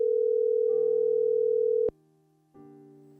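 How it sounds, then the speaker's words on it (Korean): A steady telephone dial tone drones alone as a call is connected, then cuts off abruptly with a click, followed by a brief gap and a lower multi-tone signal resuming. "먼저 전화를 연결해 보겠습니다."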